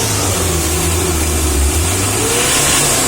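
A diesel car engine is revved hard with the throttle pushed further, giving a loud, close, continuous low roar that holds strong throughout.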